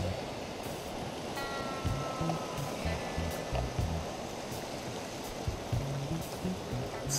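A clear mountain river runs below a hiking trail in Little Cottonwood Canyon, Utah, in March, giving off a steady, close rushing wash of flowing water with no talking.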